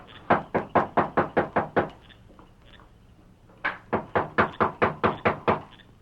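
Knocking on a wooden door, a rapid run of about nine sharp raps, a pause of nearly two seconds, then a second equally quick run, close and clear with no talk.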